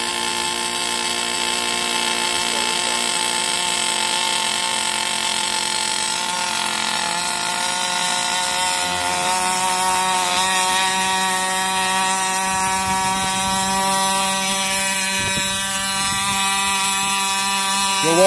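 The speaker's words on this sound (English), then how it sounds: "You'll hear the generator spin up. At this point, I'll apply power and we'll take off." The generator of a Dragon hybrid surveillance drone spins up for takeoff, a loud, close mechanical whine with layered tones that climb in pitch partway through and then hold steady.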